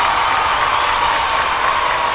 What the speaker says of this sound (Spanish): Este aplauso es para ti.